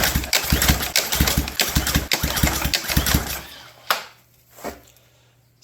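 A Ryobi power washer's small engine is cranked by hand several times in quick, loud rhythmic pulls, then falls quiet with a couple of faint knocks and clicks.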